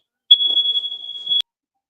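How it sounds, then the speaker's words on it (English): A single sustained high-pitched electronic beep from a smoke alarm, loud and close, lasting about a second before cutting off. "Got that smoke alarm going off real quick."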